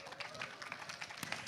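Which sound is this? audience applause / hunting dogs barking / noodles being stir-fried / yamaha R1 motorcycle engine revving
audience applause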